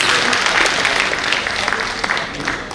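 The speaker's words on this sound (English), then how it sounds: "Please, round of applause, please." A dense crowd applauds at an International Women's Day gathering, loud and close with a continuous wash of clapping that eases slightly toward the end.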